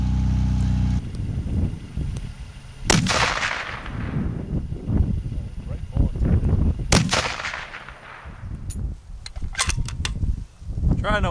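Two sharp, loud .338 Lapua Magnum rifle shots a few seconds apart, each followed by a long rolling echo across open ground, with wind noise between the blasts during load development testing.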